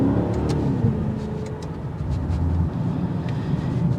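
A 2023 Maserati Ghibli Trofeo's engine rumbles with a deep, steady growl, heard from close by, with slight swells in loudness and no talking.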